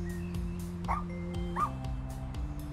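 A dog in the video game Little Misfortune gives two short, bright yips over sustained musical tones, with no voices in between.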